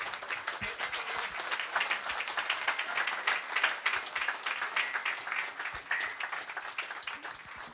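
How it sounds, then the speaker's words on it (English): An audience at a government e-services launch event applauds, a steady, dense clapping from a sizable crowd that holds for several seconds at moderate volume. "Can you give him another round of applause, please?"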